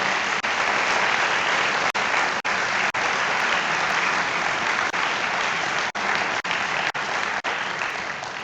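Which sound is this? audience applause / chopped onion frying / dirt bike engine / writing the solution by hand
audience applause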